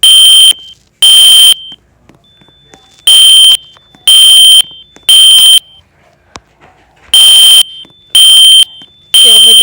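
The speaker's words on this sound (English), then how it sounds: "So I'm gonna be testing the alarms there." Fire alarm under test in a medical care facility room, sounding loud, piercing electronic beeps in eight regular bursts of about half a second to a second, separated by short quiet gaps.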